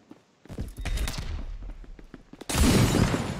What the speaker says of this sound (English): Exploding grenades everywhere.